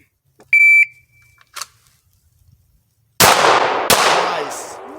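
During a draw-and-fire shooting drill at Dreamland, a shot timer beeps and then, after a pause, two loud gunshots ring out less than a second apart, each trailing a long echoing decay.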